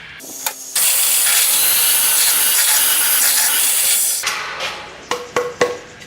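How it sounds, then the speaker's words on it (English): A power drill bores dowel holes into antique drop-leaf table legs, one long steady whirring run of about three and a half seconds, followed by a few short clattering knocks of wood and tools. "we've got all these legs drilled up, dowel holes"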